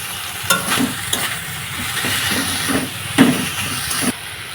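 Onions and chopped green chillies fry with salt in a pan, giving a steady close sizzle with a few sharper scraping stirs and clacks spaced through it, with no voices.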